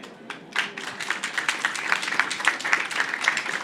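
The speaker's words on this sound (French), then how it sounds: "on peut vous applaudir." Audience applause at a French conference on the energy transition in Île-de-France: steady, dense clapping that swells after a brief quieter start and holds at a moderate, even level.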